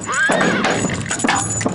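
Horses whinny loudly and shrilly nearby, with hooves clopping and scuffling underneath; no one speaks.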